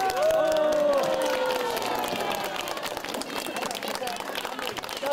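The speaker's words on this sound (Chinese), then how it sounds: "所有的职工队鼓掌。" A team of staff at an outdoor Guanyin Mountain cleanup gathering claps together as a sung melody fades out. The applause is a crackly, moderately loud patter, with voices audible around it.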